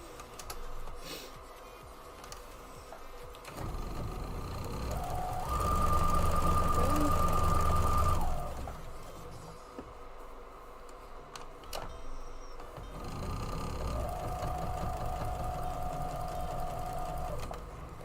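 A sewing machine stitches a quilt block in two steady whirring bursts separated by a pause, fairly close and clear, with a low hum beneath.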